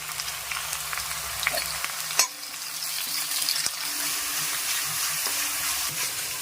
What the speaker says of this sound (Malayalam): അപ്പോൾ നമ്മുടെ കടുക് താളിച്ചത് നന്നായിട്ട് മൂത്തിട്ടുണ്ട്.